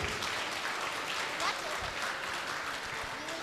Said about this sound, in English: Please give a big round of applause to all the little graduates.